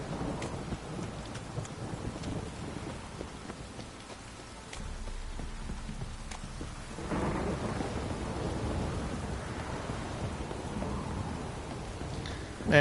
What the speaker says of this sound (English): Man, it storms a lot in this place.